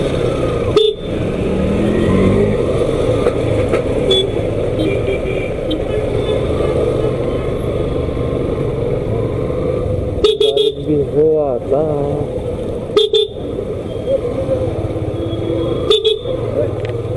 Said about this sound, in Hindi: हम लोग अभी ट्रैफिक जाम में फंस गए, देखो कितने गाड़ी